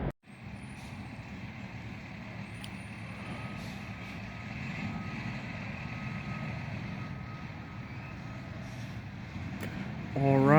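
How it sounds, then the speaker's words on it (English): A garbage truck on its weekly collection rumbles at a distance with a low, steady engine drone, and its reversing beeps sound out, growing louder and closer near the end. "resume our weekly garbage truck recordings."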